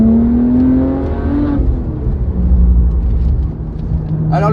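BMW 1M with a 400 hp stage 2 tune and Akrapovic exhaust line, engine revving up in a steady climbing drone, loud and close, with a brief gear change midway and no talk.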